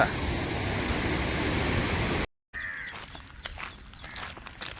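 Water rushes loudly through the Pambar dam at Uthangarai as a steady broadband roar, cut off by a brief silence, then returning fainter with scattered splashes and crunchy footstep-like sounds nearby.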